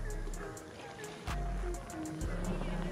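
A jet ski running over ocean waves, with a steady engine drone broken by a few hard slaps and splashy bursts as the hull hits the swell, heard up close.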